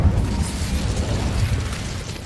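Incendio fire spell blast in the video game Hogwarts Legacy, a dense, continuous roaring rumble with booming low end that holds steady at close range for the whole stretch, with no voices over it.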